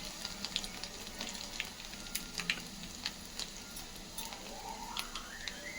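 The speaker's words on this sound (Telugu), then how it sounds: "జీలకర్ర అంటే కొంచెం ఫ్రై కానిద్దాం" Garlic, mustard seeds and cumin fry in hot oil with a steady close sizzle and scattered crackling pops, no talking.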